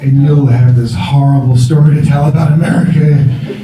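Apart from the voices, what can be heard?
No everyday noises stand out.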